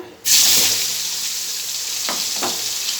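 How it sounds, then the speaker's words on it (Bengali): Potatoes hit hot oil in a kadai with a sudden loud sizzle that settles into steady frying, broken by a couple of soft stirring scrapes near the end. "লাল লাল করে ভেজে দেবো আলুগুলো।"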